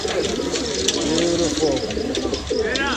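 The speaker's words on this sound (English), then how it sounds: "We got some nice birds." Pigeons or doves cooing at a year-end bird auction, soft repeated coos close by over a steady background murmur of people and birds.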